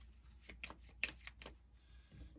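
Quiet, brief riffling bursts of cards being shuffled during a solo game of Onirim, a few separate flicks in quick succession.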